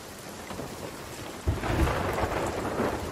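Thunderstorm in the pirate sailing game Sea of Thieves: a steady hiss of rain, then a sudden thunder crack about halfway through that swells into a loud, rumbling downpour with gusty noise.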